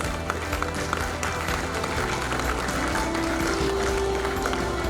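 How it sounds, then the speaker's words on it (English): An audience breaks into a big round of applause at a university event in Ahmedabad, a dense, sustained wash of clapping with crowd noise and a faint tone running beneath. "Let us have a huge round of applause and keep the spirit maintained."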